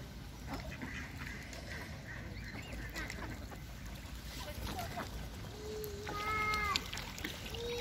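Young swans and other waterfowl on a pond give soft calls and honks, rising into clearer tonal calls near the end over steady outdoor background noise.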